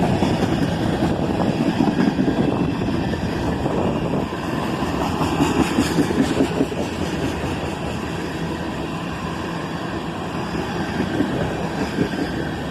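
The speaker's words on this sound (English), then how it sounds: "This train seemed to go on and on." A long freight train made up of tanker cars rolls steadily past in a continuous rumble and clatter, fairly loud and close, with no talk.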